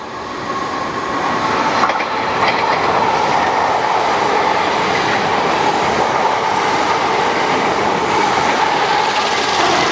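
A British Rail Class 455 electric train roars past a platform at close range, a loud continuous rumble with clattering wheels and faint squeals throughout.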